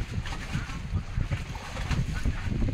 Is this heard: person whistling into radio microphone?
no